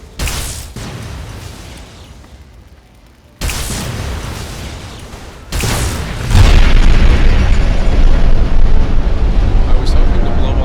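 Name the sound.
explosion in video game Fallout 3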